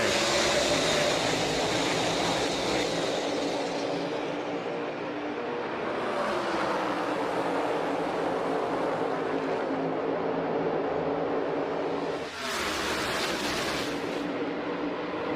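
Massed NASCAR Cup stock cars roar at the start of the Coca-Cola 600 race, a dense, loud, continuous engine drone that swells and shifts as the pack passes.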